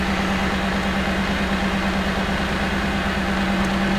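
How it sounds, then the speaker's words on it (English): A misfiring Camaro engine with a faulty ignition control module runs in a steady, rough low drone, loud and close, with no other sounds over it. "I'll rev it up and you can listen to it stumble"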